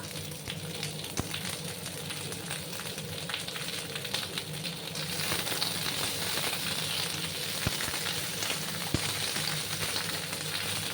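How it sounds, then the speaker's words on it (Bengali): Flat beans fry over medium heat in a pan, giving a steady, close hiss of sizzling oil that grows slightly louder midway, with a few faint clicks and no voices. "দু 3 মিনিটের মতো আমি এটাকে একটু ভেজে নিচ্ছি।"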